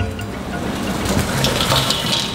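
Tofu pieces drop into a simmering, seasoned sauce for a tofu and mushroom dish, giving a steady bubbling, splashing wash of liquid with soft plops, close and continuous, no voices.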